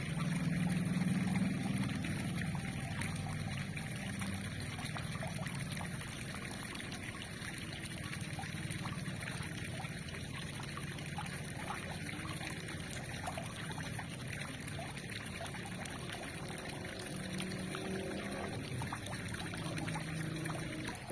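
Water pours and trickles steadily as catfish fingerlings are released into a circular pond, a continuous soft splashing wash that stays even and moderately faint throughout.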